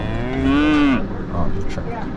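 A single close, loud moo from cattle loose on a railway track, one drawn-out bellow followed by quieter background noise.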